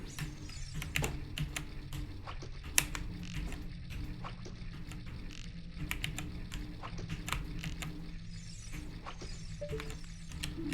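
A computer keyboard used to play Ocarina of Time: rapid, irregular clacking keystrokes, close and crisp, in uneven bursts with occasional louder hits over a faint background hum.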